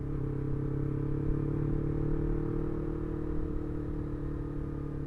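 A Yamaha R25 250cc motorcycle rides slowly in third gear at about 30 km/h, its engine giving a steady, even low drone with a smooth hum and no revving throughout.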